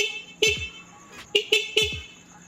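A motorcycle horn gives four short, fairly quiet honks: one near the start, then three quick toots close together, with nothing else heard.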